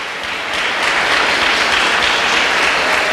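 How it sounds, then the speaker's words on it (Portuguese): Church congregation applauding at a 30th anniversary service, many hands clapping in a dense, loud, sustained burst that swells after the first half second. "pode aplaudir o Senhor"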